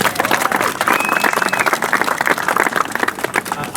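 Crowd applause and clapping at an airport terminal event marking an inaugural Avelo Air Boeing 737-700 flight from New Haven to Orlando, steady and dense throughout, with a faint high tone and some murmuring voices mixed in.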